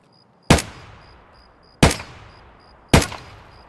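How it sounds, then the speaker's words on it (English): Three loud, sharp gunshots from Escape From Tarkov gameplay ring out about a second apart, each with a brief echoing decay, with no talk over them. "I spot him taking cover and quickly dispatch him with 3 shots"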